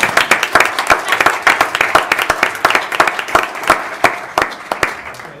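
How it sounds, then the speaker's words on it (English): People in a city council meeting audience clap in an uneven burst of sharp, close handclaps that thin out toward the end, with brief murmuring underneath. "Now we Now we can clap."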